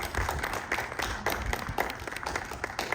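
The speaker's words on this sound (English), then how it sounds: "everybody clap your hands together in anticipation" An audience at a Kwanzaa celebration in DeLand, Florida, claps their hands in a dense, continuous patter of many hands, fairly close, with faint crowd voices mixed in.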